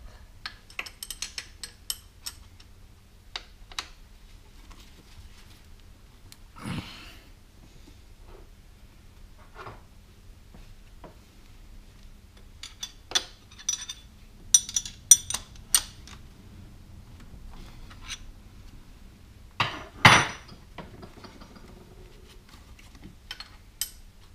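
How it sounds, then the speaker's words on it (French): Metal hand tools working loose a starter motor bolt on a Honda CRX during clutch replacement, giving scattered faint clicks, ticks and a few sharper metallic knocks in a quiet garage. "j'ai réussi à desserrer la première vis qui est ici, sur le démarreur."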